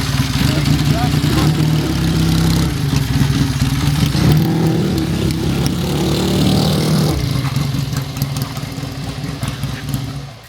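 A 1949 Indian Scout motorcycle engine runs steadily and loudly at close range, holding a low, even idle throughout with no clear revving.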